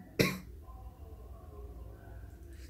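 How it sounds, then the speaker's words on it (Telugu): A single sharp, close cough bursts out at the start, then fades into quiet room tone; the cough is tied to a tuberculosis awareness setting. "ఫిఫ్టీన్ డేస్ నుండి దగ్గు ఎక్కువ వస్తుందిరా"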